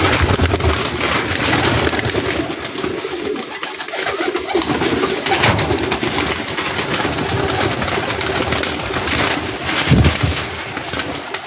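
Teddy pigeons coo softly amid a dense, noisy background of rustling and hiss, with a brief louder burst near the end.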